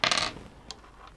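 A handful of polyhedral and ordinary dice is dropped onto a pile, making a quick burst of bright clattering followed by a couple of faint settling clicks.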